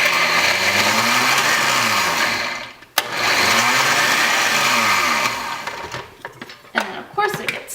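A kitchen blender on its shred setting chops cauliflower into rice with a loud, steady whirring roar that briefly stops and restarts, then gives way to thumps and scraping.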